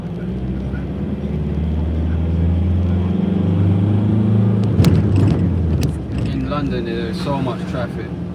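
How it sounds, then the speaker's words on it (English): Road traffic rumbles past a moped rider, swelling as a vehicle passes close and then fading, with someone talking over the steady road noise. "There's so much traffic."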